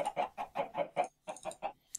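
Chickens clucking in Minecraft, a run of about eight short, evenly spaced clucks, close and clear, with a brief pause before the last few and no talking.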